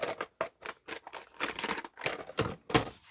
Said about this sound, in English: Get that fold nice and crisp.